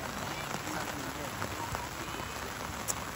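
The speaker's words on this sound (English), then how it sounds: "It's just raining." Steady rain falls outdoors at a youth soccer match, a constant dense hiss of drops hitting surfaces with a few sharper taps, moderately loud and continuous throughout.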